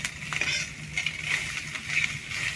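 Food fries in a pan with a faint, steady sizzle and small crackling pops, heard close and alone at low volume.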